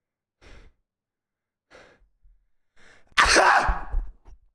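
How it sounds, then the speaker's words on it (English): A single loud sneeze from a person mid-gaming stream bursts out after a few soft breaths, sharp and close, then fades into a short exhale. "I just had to sneeze real quick."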